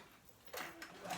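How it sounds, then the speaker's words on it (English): A home sewing machine stitches a pocket on children's pants, a faint whirring run that starts about halfway through and comes in short bursts, with no talking. "Let me go ahead and do it on my sewing machine"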